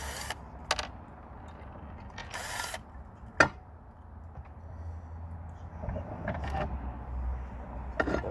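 Screws being taken out on a Humvee, with sparse mechanical creaks, a sharp metallic click and brief whirring bursts over a quiet background.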